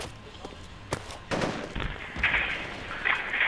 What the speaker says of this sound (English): Sounds like they're shooting off the other side.